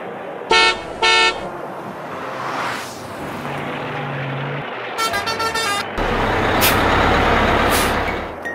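A taxi horn toots in two short bursts, followed by a low engine drone and a second cluster of rapid horn beeps, then a louder passing vehicle rush.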